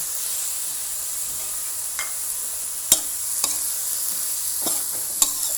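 Lotus stems being stir-fried with oyster sauce in a pan, a steady soft sizzle with a few sharp scraping stir strokes of the spatula, close and alone.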